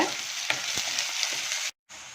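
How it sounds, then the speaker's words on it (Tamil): Onions sautéing in a pan for a cluster beans masala, a steady close sizzle with a few light spoon taps, breaking off briefly near the end before resuming. "வெங்காயம் நல்லா வதங்கிடுச்சு"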